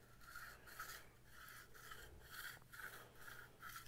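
A hand file rasps in steady back-and-forth strokes along the edge of a steel card scraper, removing the burr to square the corner; about eight close, even scraping passes with no voices.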